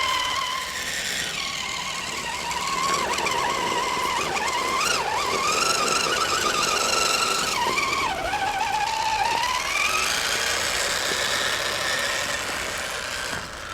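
A Gmade GOM 1/10 scale RC rock buggy on 2.2 Growler tires drives across flat ground, its small electric motor whining and rising and falling in pitch as it speeds up and slows.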